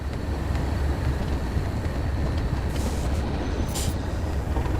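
A passenger train in Train Sim World 4 rolls in and brakes to a stop, a steady loud low rumble of wheels and engine throughout, with faint hissing bursts near the end.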